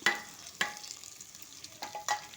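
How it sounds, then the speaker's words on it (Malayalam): Ground pepper and garlic spice powder being stirred in a pan for pepper rasam gives off soft, faint scraping strokes and a light background sizzle, with a few distinct stir clatters spaced apart. "ആ പൊടി ചേർത്ത് നന്നായിട്ട് ഒന്ന് ഇളക്കി കൊടുക്കുക"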